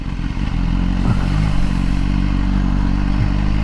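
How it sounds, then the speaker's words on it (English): An S1000R naked motorcycle being ridden, its engine a loud, steady, close droning hum that holds an even pitch throughout, with no voices. "Getting used to it on this naked though. Naked bike, that is. The S1000R."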